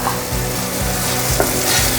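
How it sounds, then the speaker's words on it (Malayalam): Fried chicken pieces stirred into a tomato masala in a hot pan, with a loud, steady sizzle and rhythmic scraping stir strokes throughout, no voices. "ഫ്രൈ ചെയ്ത് വെച്ച ചിക്കനാണ് അതിലിട്ട് കൊടുക്കുന്നത്"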